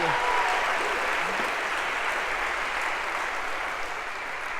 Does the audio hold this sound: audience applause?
yes